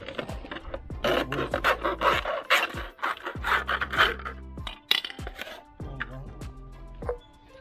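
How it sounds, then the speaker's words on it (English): A plastic milk carton being cut apart to save its base as a small container: a close run of crisp, irregular crunching and rasping cuts with a few sharp snaps, steady for several seconds. "I'm gonna cut this milk carton and just use the base as a little container"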